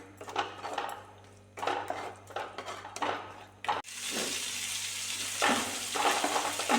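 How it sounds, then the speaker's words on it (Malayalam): A mixture is sautéed in a pan, with a steady sizzle broken by repeated scraping and stirring strokes of a utensil against the pan, close and clear with no talking. "അതിങ്ങനെ വഴറ്റിയിട്ട് ഇരുന്ന് ഇങ്ങനെ വിട്ട് വരണം നമുക്ക് ചട്ടിയിൽ നിന്ന് ഇങ്ങനെ വിട്ട് വരണം ആ ടൈം വരെ നമുക്കിങ്ങനെ വഴറ്റിയെടുക്കണം"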